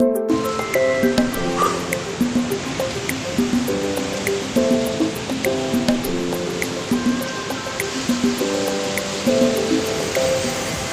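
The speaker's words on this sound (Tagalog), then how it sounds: "lalaki ng alon" Large ocean waves on the Palawan coast in the Philippines make a steady, loud rush of surf throughout, partly masked by repeating background music.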